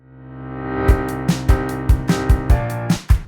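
A swelling reversed piano tone rises underneath a piano and drum groove, with punchy kick and snare hits landing over the building drone.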